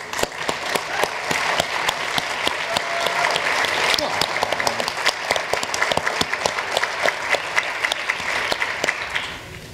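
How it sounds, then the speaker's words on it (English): A school seminar audience applauds continuously for about ten seconds, a dense, steady clapping that swells slightly in the middle, with faint voices mixed in. "Crowd reaction."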